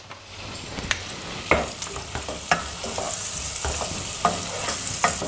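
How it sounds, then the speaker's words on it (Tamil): Onions sautéing in butter and ghee in a pan, with a steady sizzle and frequent spatula stirs and clicks that grow busier as the frying goes on. "இப்போ இந்த பெரிய வெங்காயத்தை போடுறேங்க, வதக்குறேன்."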